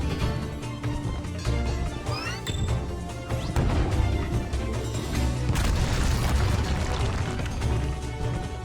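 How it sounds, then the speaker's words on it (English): Heavy booming cannon blasts and crashing impacts in a busy Skylanders: Spyro's Adventure game soundscape, with a louder burst midway and continuous clattering debris throughout. "Wait, I think we need to fire this cannon one more time."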